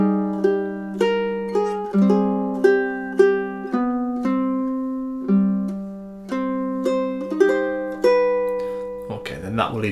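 Solo ukulele playing two measures of a love theme, a slow melody of plucked notes each ringing and decaying, close and clear, with a brief voice at the end.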